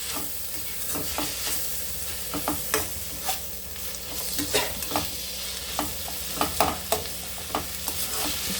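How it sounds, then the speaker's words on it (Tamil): Tomatoes sautéing in a pan for mushroom biryani, a steady close sizzle with frequent scraping stirs of a spoon against the pan, no talking. "தக்காளி கொஞ்சம் நல்லா வதங்கட்டும்."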